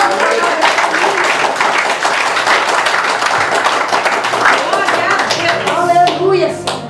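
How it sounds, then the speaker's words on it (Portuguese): A church congregation applauding during a communion service, loud dense clapping close by with voices mixed in, tapering off at the end. "Você pode aplaudir Jesus?"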